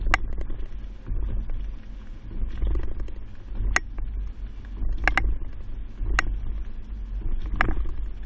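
A 2020 Chevrolet Colorado carrying a Kuat NV 2.0 two-bike hitch rack rolls slowly over alternating speed bumps, with a low steady rumble and several sharp rattling clunks from the rack at irregular intervals.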